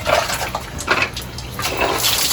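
Water poured over a child's head during a bath, a close splashing and gushing that surges in waves, loud and continuous for a couple of seconds.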